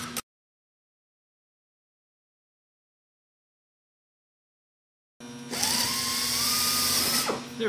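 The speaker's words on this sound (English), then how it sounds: "All the holes nice and drilled." A power drill bores holes in aluminum sheet metal, a loud, close, high whine lasting a couple of seconds after a long silence, with a short burst at the start.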